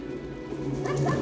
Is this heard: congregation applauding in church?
no